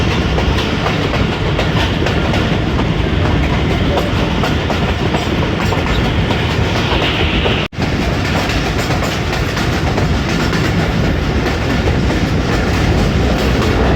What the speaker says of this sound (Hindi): मरीड चौक से गुजर रही है ट्रेन हमारी